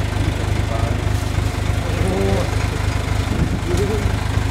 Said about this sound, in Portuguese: Empurra com o trator, uma lâmina na frente, ela vai trinchando atrás.